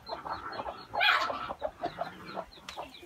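Hens settled on a brooding nest give soft, repeated clucks and murmurs at close range, with one louder burst of clucking partway through and no talking.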